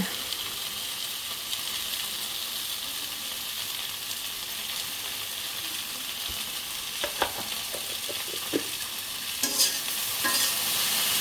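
Okra (bhindi) fries in a pan with a continuous dense sizzle, close and fairly loud, and a cluster of clattering spatula stirs toward the end; no one talks.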